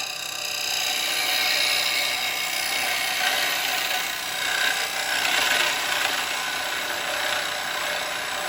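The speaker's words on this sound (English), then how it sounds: "Getting a bit harder to continue with this chisel now." A chisel cuts into a yew bowl spinning on a wood lathe, giving a steady, close, loud scraping hiss that holds with no pauses and swells slightly in places.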